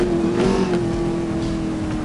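A Porsche in Need for Speed Most Wanted accelerating, its engine a steady, loud, tonal drone that holds one pitch and rises slightly, heard alone without speech.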